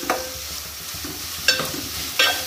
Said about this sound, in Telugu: వీటిని ఒకసారి కలుపుతూ ఫ్రై చేయాలండి.